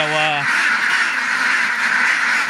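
A flock of ducks quacking loudly and continuously nearby, a dense noisy chorus with a brief horn-like tone at the start.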